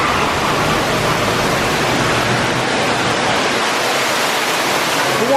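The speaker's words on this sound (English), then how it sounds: "So if you can't tell, there's a waterfall. So it's going to be a little loud." Loud, steady rush of a waterfall inside the Caribbean exhibit of a Texas aquarium, a continuous broadband roar filling the space for the whole stretch with no breaks.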